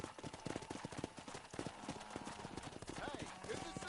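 Horse hooves clip-clop at a steady trot in the Red Dead Redemption western video game, a quick even rhythm of close, clear hoofbeats running throughout and mixed with other game sounds and voices.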